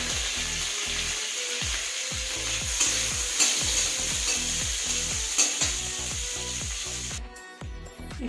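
Panch phoron spices tempering in a little hot ghee crackle and sizzle steadily while a spoon stirs and scrapes in regular strokes, close and clear, ending abruptly, with no voices.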